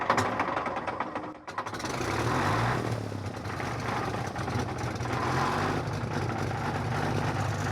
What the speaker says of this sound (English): you can hear the clatter of the gearbox inside where the propeller and the engine